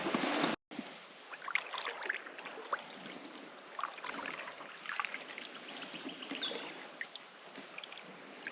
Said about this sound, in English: Oops, I better paddle.